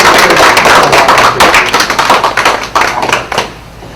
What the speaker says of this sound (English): A warm round of applause for Brother Minister.